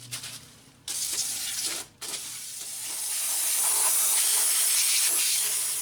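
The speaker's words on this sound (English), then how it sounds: "I'm just going to clean up the power steering reservoir area with a little bit of brake cleaner." Brake cleaner hisses out of an aerosol can onto the power steering reservoir area of a 2006-2011 Honda Civic, in two short bursts with brief pauses, then one long continuous spray, close and fairly loud.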